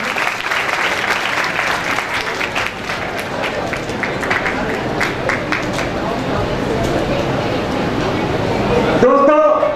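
Audience at a computer education institute's annual celebration giving loud, sustained applause, thick continuous clapping with crowd noise that swells near the end before cutting to a brief different sound.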